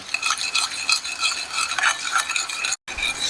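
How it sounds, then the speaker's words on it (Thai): Sour tonkatsu sauce with sugar being stirred in a kitchen: steady, close scraping and swishing of the stirring, continuous and fairly loud, with a brief pause just before the end. "คนส่วนผสมให้เข้ากัน"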